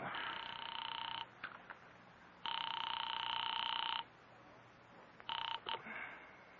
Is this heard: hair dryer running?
no